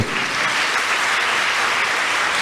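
A church congregation applauds loudly and continuously during a worship service, a dense wash of clapping with no pauses.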